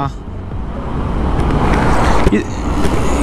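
A Hero Xpulse 250 motorcycle on a mileage test run gives a loud, continuous engine and road roar mixed with rushing wind, with a voice faintly underneath.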